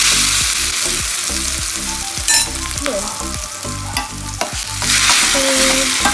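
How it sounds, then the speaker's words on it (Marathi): Loud, steady sizzling of vegetables frying in hot oil with cumin and mustard seeds, with repeated scraping and stirring strokes of a spoon against the pan throughout. "फोडणीला थोडंसं जिरे मोहरी सगळं टाकलं आणि ह्यातलीच थोडीशी भाजी मी याच्यामध्ये टाकते"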